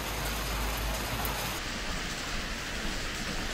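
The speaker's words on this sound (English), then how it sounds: "Rain, rain, rain, rain. All it does is rain. Oh, and now it's hailing." Heavy rain mixed with hail falling outdoors, a dense, steady roar of drumming on surfaces that holds at a constant loud level throughout, with no voices.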